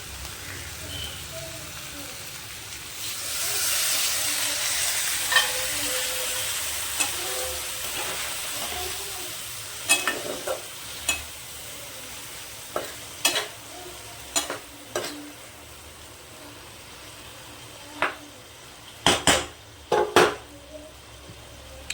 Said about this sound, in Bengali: সামান্য পরিমাণ জল দিয়ে নাড়াচাড়া করব।